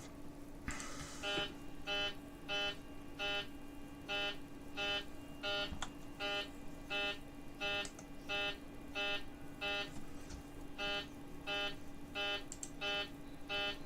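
Cockpit warning beep in a Boeing 737-800 in Microsoft Flight Simulator 2020: a regular, repeating electronic tone pulsing roughly twice per second over a steady low hum, continuing throughout without talk.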